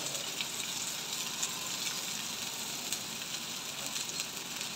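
Cabbage and tomato sizzling in a pan, a steady close hiss of frying with a few soft scrapes of stirring.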